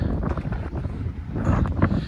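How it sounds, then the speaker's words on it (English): Gusty wind at a beach in Chincoteague, Virginia buffets the microphone with low rumbling roars that rise and fall, no voices present. "It's another very windy day here."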